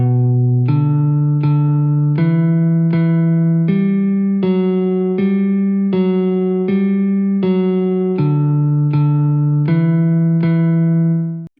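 A clean, plucked guitar tone plays a repeating minor-key intro riff of evenly spaced notes, loud and upfront, moving stepwise up and back down.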